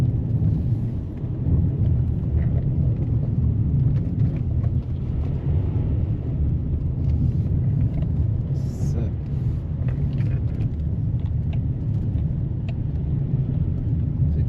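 Vehicle travels along a bumpy country road, a steady low rumbling drone with rattling and jostling throughout, loud and continuous.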